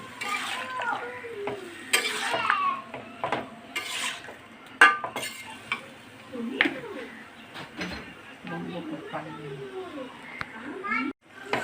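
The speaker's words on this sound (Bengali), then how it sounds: "বন্ধুরা, লাউটা 10 থেকে 15 মিনিট নেড়ে চেড়ে দেবেন, কষাবেন" Bottle gourd is stirred in a cooking pot with a spatula, giving repeated scraping and clattering strokes and a light sizzle, while children chatter and play in the background.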